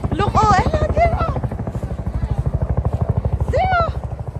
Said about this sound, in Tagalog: Where's the helicopter?